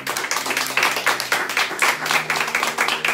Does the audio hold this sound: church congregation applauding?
yes